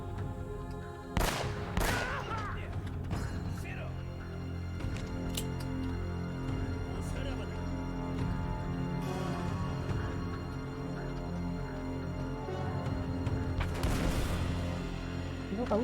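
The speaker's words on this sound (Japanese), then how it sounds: "どっか撃ってきてるね。" Enemy gunfire aimed at the player in the PS3 action game Uncharted: Drake's Fortune: scattered sharp shots and bursts, a cluster near the start and another near the end, over a steady game backdrop with sparse talk.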